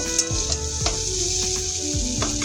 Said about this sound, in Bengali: এটাকে পাঁচ মিনিটের মতো আরেকটু ভাজা করে নেব সয়াবিনটা কিন্তু ভাজা হয়ে গিয়েছে